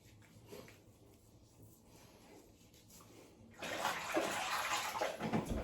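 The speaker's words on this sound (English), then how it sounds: "Rinse your hands." Hands being rinsed under running tap water before shaving, a steady broadband splash that starts suddenly midway and continues loud to the end after a quieter stretch of faint room noise.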